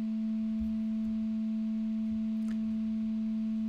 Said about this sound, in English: So if we listen to these sine waves now,